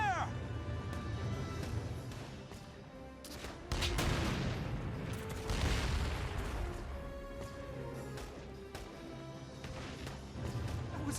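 A tank cannon fires in Valkyria Chronicles 4, heavy booming blasts and crashing impacts mixed with game music and battle noise, with voices talking over the action.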